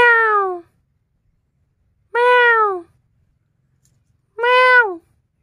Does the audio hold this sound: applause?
no